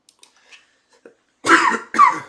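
Two harsh, close coughs in quick succession from a man at a microphone, loud bursts following a few faint breaths and small mouth noises.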